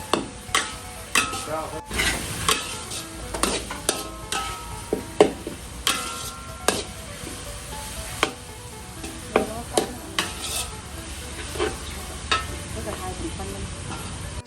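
Chicken with holy basil stir-fried in a pan, a steady run of sharp scraping and clacking strokes from the spatula, about one every second, over a low sizzle with a voice talking at times.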